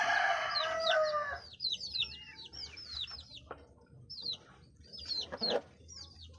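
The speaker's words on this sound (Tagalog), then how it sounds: "ito yung may sipon natin na manok" A chicken with a cold clucks and chirps in short repeated bursts at close range, with a brief crowing-like call at the start, otherwise quiet surroundings.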